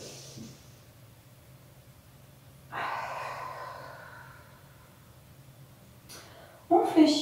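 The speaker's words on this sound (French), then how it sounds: "Inspire." A single slow, audible inhale during a Pilates exercise, quiet and close, followed by a short, sharper breath near the end.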